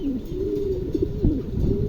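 Large pigeons cooing close by, a few low rolling coos in quick succession with no talk over them.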